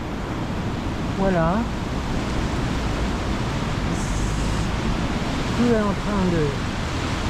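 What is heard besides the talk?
flooding Seine river water rushing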